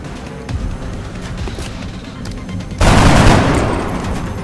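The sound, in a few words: gunfire in the video game XCOM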